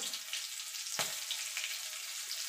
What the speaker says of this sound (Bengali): দিয়ে দেবো তেলের উপরে হলুদ গুঁড়ো